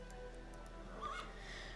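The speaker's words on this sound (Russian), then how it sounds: "Рунный бегун встает близко-близко и фыркает тебе в лицо" In the Star Stable Online video game, a Rune Runner horse snorts in a brief, breathy burst close up, set against a steady low game ambience and faint background tones.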